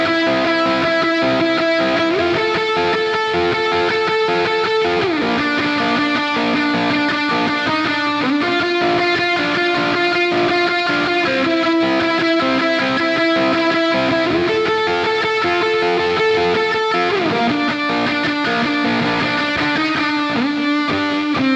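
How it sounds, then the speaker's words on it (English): A Hello Kitty Squier electric guitar plays a big, sustained grunge lead through an Axe FX Big Muff model with an op amp swapped in for the transistor, feeding a plexi amp model. Loud, fuzzy notes ring out and shift pitch steadily, with no talking. "Adding the Big Muff model with the transistor swapped out for the op amp into the previous plexi tone that we had set up"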